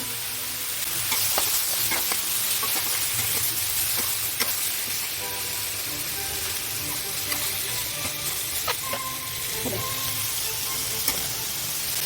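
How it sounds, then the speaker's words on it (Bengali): Cashews, ginger and garlic fry in oil in a pan for Delhi-style shahi paneer masala, giving a steady close sizzle throughout with occasional scrapes and clinks of a spoon stirring, no talking. "এগুলো সব দিয়ে আমি খুব ভালোভাবে এটাকে একটু ফ্রাই করব।"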